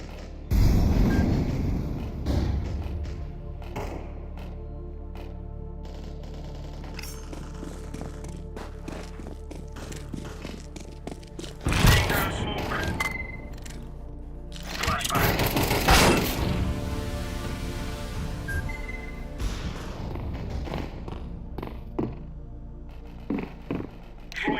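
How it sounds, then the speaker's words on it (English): In a video game firefight, a flashbang grenade bursts with a sharp blast among scattered thuds, creaks, mechanical clatter and other bangs, while a player's voice calls out intermittently over the action. "Flashbang."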